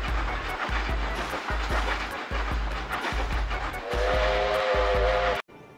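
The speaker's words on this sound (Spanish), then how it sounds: "el de las locomotoras que cambia el tono del silbato, dependiendo de la distancia a la que está" A locomotive whistle in the Trainz Simulator 12 video game sounds over rhythmic, heavy rail clatter, loud and close, with a sustained tonal blast near the end before an abrupt cut.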